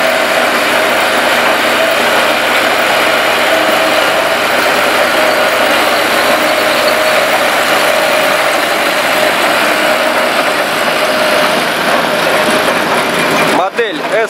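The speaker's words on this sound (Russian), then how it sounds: "Довольно-таки большой такой комбайн самоходный." A large Grimme self-propelled potato harvester, a two-row machine with twin steering front wheels, runs steadily in a field, its engine and machinery giving a loud, even drone throughout before a brief dropout near the end.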